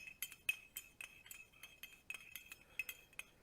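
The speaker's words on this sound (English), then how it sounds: "stir the tea." A spoon clinks repeatedly against the sides of a teacup while stirring tea, quick bright metallic taps in a steady rhythm, close and clear with no voices.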